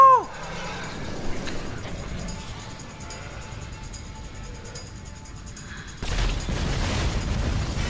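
Explosions erupt in GTA 5, a loud blast at the start fading into rumbling debris, then a fresh burst of heavy roaring noise near the end, with someone talking over parts of it.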